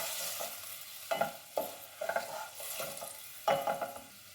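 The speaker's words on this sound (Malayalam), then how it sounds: "നമുക്ക് ഇളക്കാം." Noodles being stirred in a frying pan, a series of scraping, clattering strokes at irregular intervals over a soft background sizzle, close and fairly loud, no talk.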